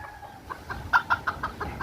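Chickens on a farm in the Philippines, being gathered into a cage, give a quick series of short, sharp clucks at close range over a low background hum.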